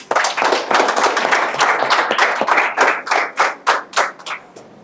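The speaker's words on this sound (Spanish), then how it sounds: "Lo recibimos con un fuerte aplauso." An audience at a formal event in Honduras gives a loud round of applause, dense clapping from many hands that thins out into a few last scattered claps.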